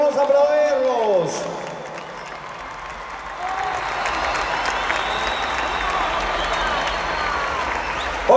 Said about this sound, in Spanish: vamos a aplaudirlos